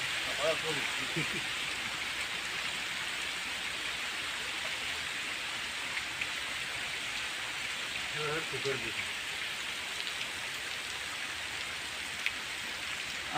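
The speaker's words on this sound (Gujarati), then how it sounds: "હાલો વરસાદ આવી ગયો આમ" Rain falling steadily near a farm road, a dense even hiss that holds throughout, with faint voices now and then beneath it.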